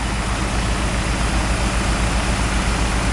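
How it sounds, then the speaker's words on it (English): The engine of an 8560 auger tractor runs steadily at close range, a loud, constant low rumble with an even drone and no breaks or voices. "Got my auger tractor there."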